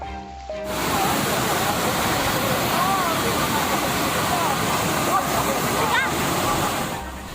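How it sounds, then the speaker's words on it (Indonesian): The swollen Kuning River in a flash flood after heavy rain, a loud, steady broadband roar of rushing water filling the whole stretch, with faint scattered voices underneath. "Dari video milik warga merekam derasnya arus Sungai Kuning usai diguyur hujan"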